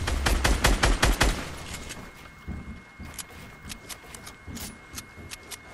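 Rapid bursts of turret gunfire in the video game Fortnite, dense and loud for the first second or so, then thinning into scattered, softer shots and distant pops over the remaining seconds, with no voices.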